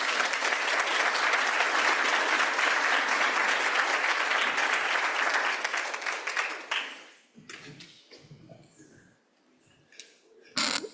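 Audience applause at a Rotary club gathering starts full and dense, then fades out after about seven seconds into scattered claps and room noise, with a brief burst at the end.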